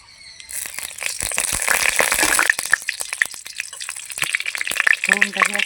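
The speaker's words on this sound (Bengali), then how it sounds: "গোটা জিরে, একটা শুকনো লঙ্কা আর 2টা তেজপাতা ফোড়ন করে নেব।" Whole cumin seeds, a dried chili and two bay leaves tempering in hot oil left from frying paneer, a close, steady sizzle that swells and then keeps going, dotted with sharp pops and crackles.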